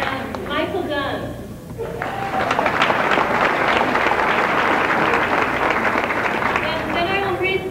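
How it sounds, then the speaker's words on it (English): Audience applause breaks out after names are read aloud at a community gathering. A voice speaks briefly first, then steady, dense clapping fills the room and keeps going to the end. "you can hold your applause until I read all of these"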